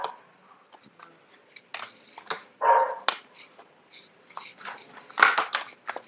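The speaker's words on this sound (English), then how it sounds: "forgive the dog barking in the background." A dog in the background gives a series of irregular barks and yelps, some louder and sharper, spread across several seconds with quiet gaps between.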